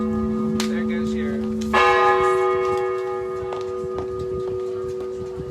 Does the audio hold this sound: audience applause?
no